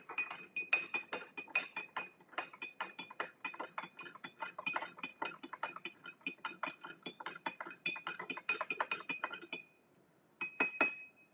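A spoon stirs herbal hibiscus tea with dried orange peel in a glass, clinking against the sides in a quick, continuous run of bright chinks. After a short pause a few last taps follow.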